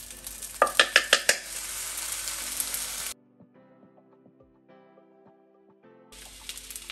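Kimchi fried rice being stir-fried in a pan: a burst of loud scraping stirs and sizzling, then near-silence with faint kitchen clinks before the frying hiss returns.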